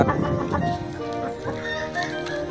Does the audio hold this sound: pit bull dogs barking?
no